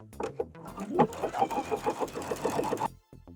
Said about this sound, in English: I'm going to sew down right in the middle of the elastic